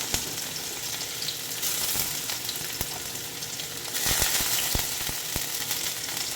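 Chopped onion, garlic and tomato sautéing in a pan for a mung bean stew, a steady close sizzle with scattered sharp clicks and spatula scrapes, growing louder and busier toward the end.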